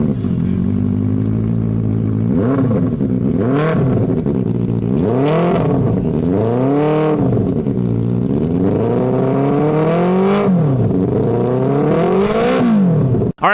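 A Benelli motorcycle engine runs loud and close throughout, its pitch climbing and falling in repeated revs, with no talking.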